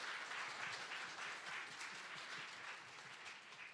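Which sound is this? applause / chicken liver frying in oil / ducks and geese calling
applause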